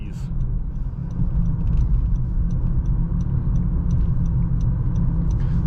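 Steady, loud low road and engine rumble fills the cabin of a 2016 Honda Accord Sport 2.4 as it takes a highway exit turn, swelling slightly and holding constant throughout.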